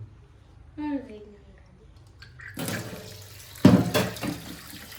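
Water gushes from a tap in a sudden splashing burst after a quiet stretch, with brief speech heard before it.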